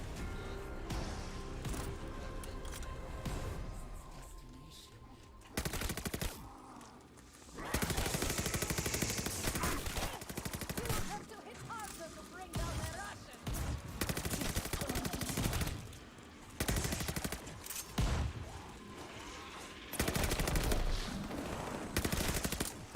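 Machine pistol gunfire in a multiplayer shooter video game, heard as repeated loud bursts of rapid automatic fire separated by short pauses, with faint talk in the background.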